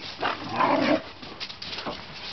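Puppies play and bark close by, with a few short yips and whimpering barks in quick succession, loud at first and then softer.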